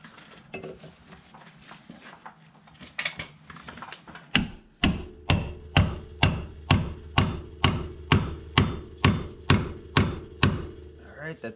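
Sharp metallic hammer blows striking a steel pickle fork ball joint separator on a Jeep Liberty at a steady rhythm, about a dozen loud evenly spaced hits after some quieter clanking and shuffling.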